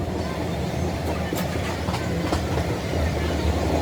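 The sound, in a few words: passenger train running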